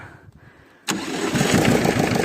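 An engine cranks briefly and then catches, settling into a loud, steady running rumble close by after a short quiet lead-in, with no talking.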